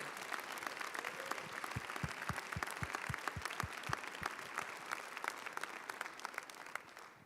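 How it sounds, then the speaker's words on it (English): Steady round of audience applause at a university scholarship event, fairly distant and moderate, with a few louder individual claps standing out near the start. "If you would please give another round of applause to Juan Oliveras and Steve Ender."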